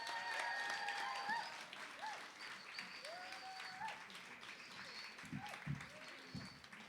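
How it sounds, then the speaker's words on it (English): An audience at a deaf and disability arts symposium applauds a speaker, a soft, distant, steady patter of clapping with a few thin tonal sounds and faint voices mixed in. "asking you to applaud Eliza Chandler"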